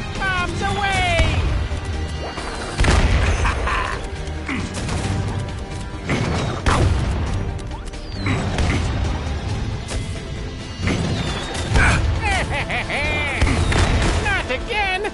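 Loud, repeated cannon blasts and crashing explosions from a Skylanders video game, bursting in a busy, dense series beneath a voiced character's taunting dialogue and game music.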